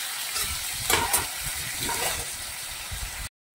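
A capsicum, dal and potato mixture is sautéed over a high gas flame, giving a steady close sizzle and hiss with occasional scraping stirs, no voices.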